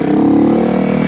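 A Honda CRF300L motorcycle pulls away hard in third gear, its engine note rising in a loud, steady, close-up roar with a throbbing exhaust pulse throughout the short burst.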